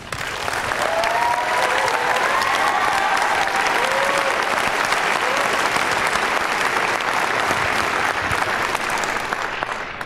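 Audience applause fills a large conference hall during the 2015 State of the Word keynote, a dense, steady wash of clapping sustained for about ten seconds with no break.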